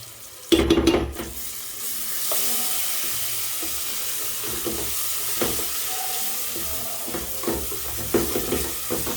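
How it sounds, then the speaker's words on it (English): A pot of sauce with scent leaf just added is stirred, giving a continuous bubbling sizzle with scraping spoon strokes and a sharp clatter near the start, close and steady with no talk. "So I added my scent leaf now. Let's give it a stir and bring our sauce down"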